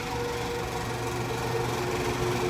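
A Bock Model FP-90 spin dryer spins steadily at high speed, a constant whirring drone with a thin, steady whistle riding on top.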